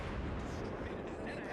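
The light cruiser Omaha fires gun volleys at a tier 7 battleship in World of Warships, a dense, loud, continuous rumble of naval cannon fire with a voice talking over it.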